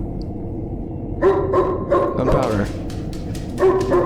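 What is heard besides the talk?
dog barking in a video game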